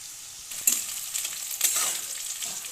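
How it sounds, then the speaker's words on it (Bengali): Capsicum frying in a pan for cabbage manchurian, a steady hiss of sizzling oil with a few louder crackles and stirring scrapes, close by with no talking. "এবারে দিয়ে দিচ্ছি ক্যাপসিকাম"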